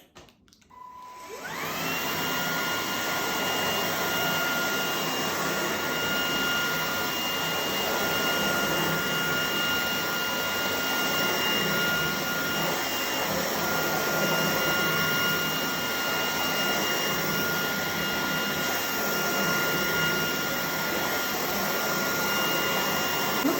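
A Redroad V17 cordless stick vacuum cleaner spins up in turbo mode and runs loud and steady at close range, a constant high motor whine over a broad airflow rush, with no one talking.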